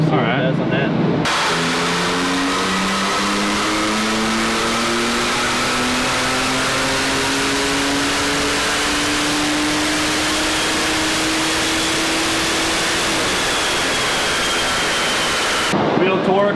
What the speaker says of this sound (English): we'll put it up there in map 3 and we'll see what it does on that.